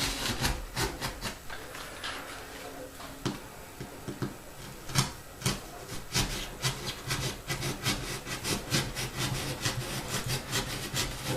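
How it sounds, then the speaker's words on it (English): A knife slices through a styrofoam sheet while installing a Walther 130-foot turntable, giving steady scratchy rasping strokes that quicken into rapid repeated sawing near the end, close up with no talk. "Now all we got to do is learn how to follow a line with a knife and styrofoam"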